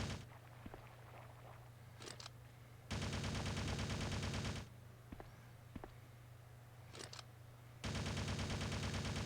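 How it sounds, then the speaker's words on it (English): Gunfire from the Resident Evil Survivor video game comes in sustained, loud bursts of rapid automatic fire that stop and start, with scattered impacts and movement sounds between the volleys. "She's trying with all his might to shoot me."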